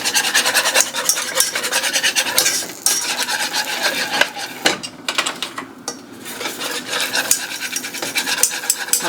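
A whisk scrapes and rasps steadily against the sides of a bowl of batter, breaking up chunks in a continuous, close scratching rhythm with brief pauses.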